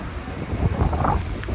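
Wind buffeting a microphone outdoors, a steady low rumble with gusty swells and thumps throughout, close and moderately loud with no speech.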